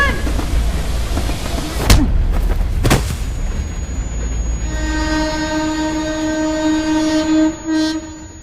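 Train horn blasts over the steady rumble and clatter of a train on the tracks, used as background score for a tense football match scene in the Telugu film Arjun Reddy; two sharp bursts early, then a long sustained horn toward the end.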